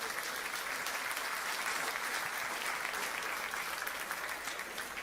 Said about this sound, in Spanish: denle un fuerte aplauso al Todopoderoso